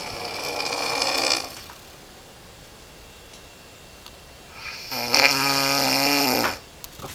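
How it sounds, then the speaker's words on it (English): A man's very loud snoring comes in two long rasping, rattling breaths separated by a quiet pause, heard up close with no talk. "Fucking annoying ass snoring."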